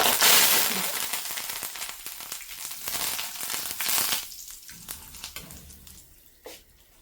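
Crushed, unpeeled garlic and curry leaves fry in hot oil, giving a crackling sizzle that is loudest at first and gradually fades, with scattered pops.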